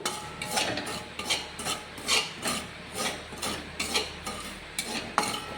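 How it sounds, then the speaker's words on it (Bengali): Semolina being dry roasted in a pan for chhena sandesh: a steady series of soft scraping and rasping strokes as a spoon stirs the grains, rhythmic and close, with no talking. "দেখো এখানে হচ্ছে যে সুজিটা দিয়ে দেবো, সেটা ড্রাই রোস্ট করে নেবো একটুখানি"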